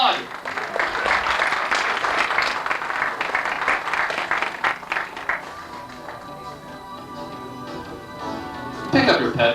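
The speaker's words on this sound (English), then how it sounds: "Applaud." Applause from the audience at an auction during the ConFURence 7 convention fills the room with a broad, steady clatter of clapping. Voices talk over the clapping and grow clearer as it thins out toward the end.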